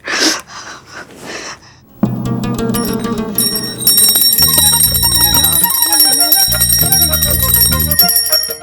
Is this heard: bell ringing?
yes